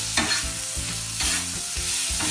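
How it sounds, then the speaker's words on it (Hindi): Garlic, ginger and chopped tomatoes stir-fried in a pan, a steady close sizzle broken by repeated scraping stirs every half second or so, with no voices. "लहसुन और अदरक की भी हम यहाँ पर थोड़ी सी भुनाई करेंगे"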